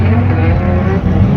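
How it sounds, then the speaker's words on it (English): Engine of a car running at Fuel Fest Scottsdale, a steady loud low rumble idling close by for the whole moment with no pauses. "These guys got the car running."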